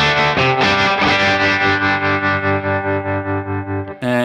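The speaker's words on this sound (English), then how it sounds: "Over here in effects world, I've got a bit of a tremolo happening." An electric guitar chord rings through the tremolo effect of a BOSS Katana 50 Gen3 amp, its volume pulsing in a steady, even throb as the sustained, slightly distorted chord decays, ending with a brief click.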